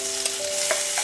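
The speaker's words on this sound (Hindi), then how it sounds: "अब हम इसमें लहसुन डालेंगे।" Garlic and ginger frying in hot oil in a pan, a bright close sizzle with a few quick stirring scrapes, no one talking.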